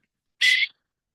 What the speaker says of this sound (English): When you hear this whistle